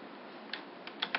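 Computer keyboard keys tapped a few times, soft close clicks arriving in an uneven burst over low steady room hiss.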